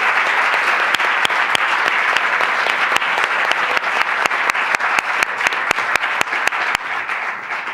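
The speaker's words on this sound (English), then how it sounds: "let's give our panelists another round of applause" An audience applauds panelists after a university lecture, steady loud clapping with a few sharp, distinct claps from nearby hands popping out regularly.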